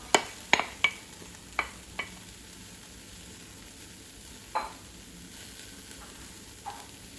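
Chopped Persian leek hitting a preheated pot on maximum heat, a faint steady sizzle broken by several sharp clanks and scrapes of stirring, spaced irregularly and fairly close.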